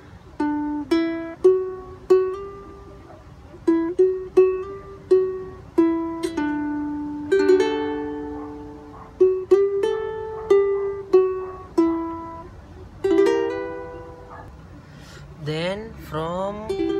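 A ukulele picked slowly in fingerstyle plays the opening of a song, single plucked notes and small chords ringing out clearly one after another, close and alone with a quiet string slide at the end.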